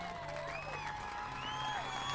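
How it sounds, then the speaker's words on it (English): A distant outdoor crowd at a Minnesota bass fishing tournament on Whitefish Lake claps and cheers for two anglers, with scattered whoops and whistles rising over a steady, faint wash of applause. "How about a round of applause for these two anglers?"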